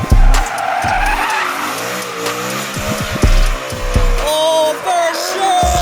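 A car spins donuts with loud, wavering tire squeal and skidding over a roaring, revving engine, close and continuous, with brief thumps and rising pitch sweeps.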